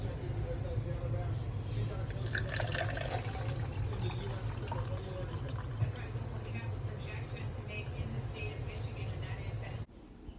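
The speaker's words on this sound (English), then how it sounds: "Now I'm going to separate this water into the 2 vessels." Warm water poured from one container into two vessels, a steady continuous stream of pouring and splashing that runs for several seconds before stopping abruptly, heard close up.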